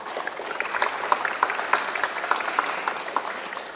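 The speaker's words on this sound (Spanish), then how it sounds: "Lo recibimos con fuertes aplausos" Steady applause from a forum audience greeting a panelist at an international circular economy forum, dense clapping throughout at moderate, even loudness.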